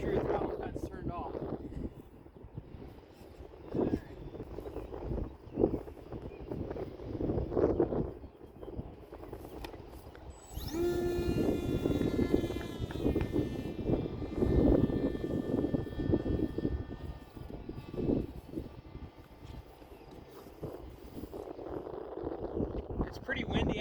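An E-flite Opterra 2-meter RC flying wing takes off on a windy evening, its electric motor rising to a high whine that then drones steadily, with wind buffeting the microphone and a person talking throughout.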